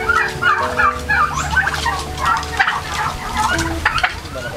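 A flock of farmed turkeys, including Narragansett and blue-slate birds, gobbles in repeated rapid bursts, several birds overlapping nearby with a low steady background hum and no speech.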